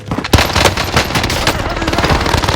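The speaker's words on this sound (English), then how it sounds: "Dude, the Tommy gun." A Tommy gun fires in the video game Warzone as one sustained automatic burst of rapid, loud, close shots with a sharp opening report, rattling on without pause.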